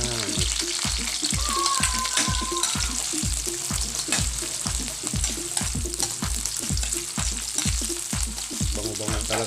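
Onion and ginger fry in a pan, sizzling steadily while a utensil stirs and scrapes in a regular, repeated rhythm, close and loud throughout.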